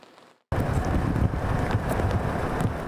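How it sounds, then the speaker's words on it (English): After a brief quiet moment, a strong wind gust buffets the microphone with a loud, steady roar that lingers. "The wind gusts are picking up."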